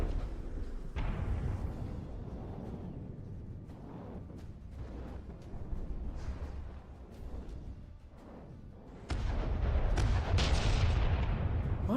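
Heavy naval guns on a custom-designed warship in From The Depths, booming in repeated salvos with a rumbling roar between them and a louder barrage near the end.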